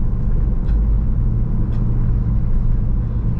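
A 2014 Honda Mobilio pulls out to overtake on a road, heard from inside as a loud, steady low engine and road rumble with no talking.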